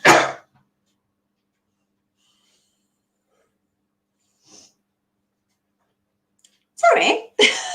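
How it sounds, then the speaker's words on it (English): A single sharp human sneeze bursts out at the start, followed by near silence, a faint short sound midway, then two loud close bursts of noise near the end. "I'm going to sneeze in a minute, I'm sorry."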